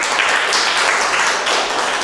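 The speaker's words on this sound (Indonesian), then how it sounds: "Tepuk tangan." Applause from a classroom audience welcoming a student group of five to the front for a watercolor painting lesson: a steady, dense patter of many hands clapping continuously, fairly loud and close, without pauses.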